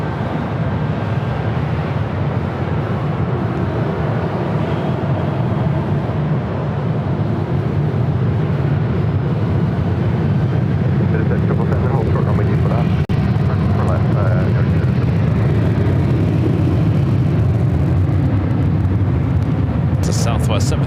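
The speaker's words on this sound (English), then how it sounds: "Southwest 737-800 rolling down to 24 left on the north side. That's what you're hearing." A Southwest Boeing 737-800 rolls down runway 24 left on the north side of LAX on an evening takeoff, a loud, sustained roar of jet engine noise heard from a distance, with a voice talking over it.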